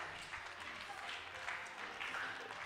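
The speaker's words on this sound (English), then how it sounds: "Let's clap for them, please." Audience applause at a Hult Prize event, a steady wash of many hands clapping at moderate distance with no break, a light murmur of voices mixed underneath.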